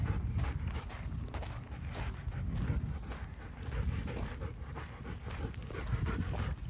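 A dog out on a nature walk pants steadily and closely, with rhythmic padding footsteps on the ground throughout and no talking.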